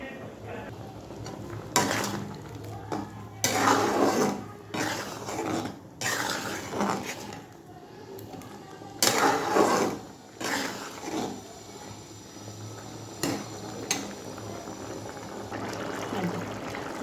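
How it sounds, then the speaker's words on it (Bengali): Bowl with poppy seed paste stuck to it being washed by hand: water splashing and running in irregular bursts with clinks of dishware, and a voice talking now and then. "দাঁড়া, এই বাটিটা ভালো করে ধুতে হবে, বাটিটার পাশে অনেক পোস্ত লেগে আছে।"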